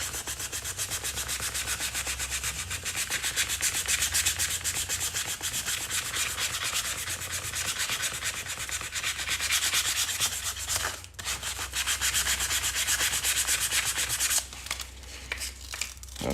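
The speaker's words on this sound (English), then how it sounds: "I just want to sand this down" A pick handle is sanded down with steady, close abrasive rubbing that runs almost continuously at an even level. Brief pauses and grainier strokes come near the end.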